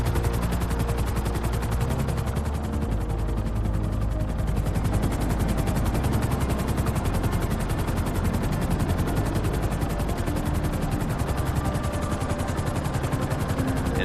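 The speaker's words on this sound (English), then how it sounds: "so I'm going to hop to Trevor and use his helicopter." Trevor's helicopter flying in the video game GTA 5, a loud, steady rapid rotor chop with engine whine that runs continuously without a break.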